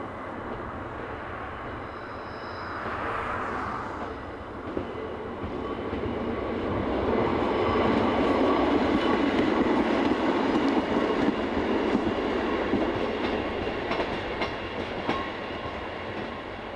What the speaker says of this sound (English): Class 810 diesel unit number 810368 heads west down the branch to Rakovnik